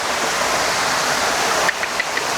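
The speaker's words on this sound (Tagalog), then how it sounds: "yung dumadaloy na tubig, eh galing na sa dumi ng tao sa taas" Stream water flowing over rocks at an abandoned resort, a dense steady rushing wash, loud and close, with a few faint knocks near the end.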